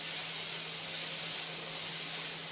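Cumin seeds and onions fry in a pan for a vegetable curry, giving a steady, close, continuous sizzle throughout with no talking.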